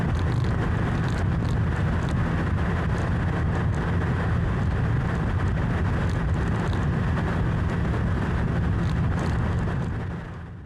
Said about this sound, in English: The wind wasn't done with me yet.